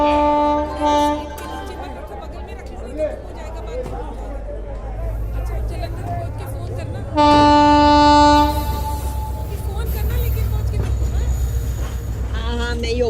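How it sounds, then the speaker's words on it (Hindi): The Hoshiarpur Express pulls into platform 2 at an Indian railway station with a deep rumble. A short horn toots near the start, then a loud, sustained horn blast rings out midway, with station voices murmuring underneath. "रवाना होने वाली गाड़ी संख्या 1401 होशियारपुर एक्सप्रेस प्लेटफॉर्म क्रमांक 2 पर आ रही है"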